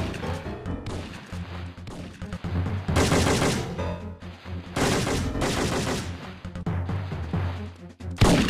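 Loud bursts of rapid gunfire and crashing impacts from the Syphon Filter 3 video game come in several dense volleys separated by brief lulls, with the rattle of automatic weapons throughout.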